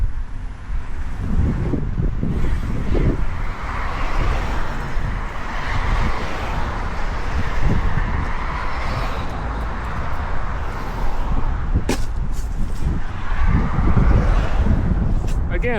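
Strong outdoor wind buffets the microphone with continuous low rumbling gusts throughout a walk in Dallas, rising and falling in loudness.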